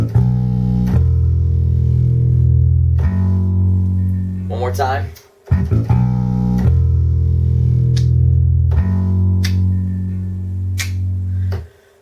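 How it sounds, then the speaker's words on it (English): A piano plays a deep, sustained bass line with pickup notes, loud and close in long held low tones, briefly broken by a short spoken phrase midway. "There are some pickup notes and some pretty cool stuff that the bass player is doing."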